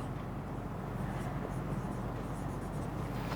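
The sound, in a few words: writing by hand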